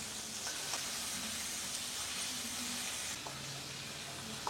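Fish frying lightly in a pan in a home kitchen: a continuous close sizzle and crackle, with a few soft knocks and scrapes as the pieces are turned.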